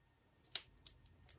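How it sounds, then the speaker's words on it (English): Sharp scissors make three quick, crisp snips into backpack fabric at the gusset, each cut close and distinct against a quiet room. "So I'm going to make a little snip at the top gusset here."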